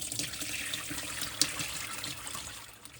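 Gravy base for pork sauerbraten pours through a colander, the vegetables strained out, giving a soft, steady trickling and splashing of liquid at close range.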